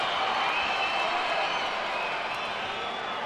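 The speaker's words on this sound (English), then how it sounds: "Crowd in the arena is still responding favorably for Oscar De La Hoya." A boxing arena crowd cheering for Oscar De La Hoya before his WBC fight with Ricardo Mayorga, a steady distant roar of voices and applause filling the hall.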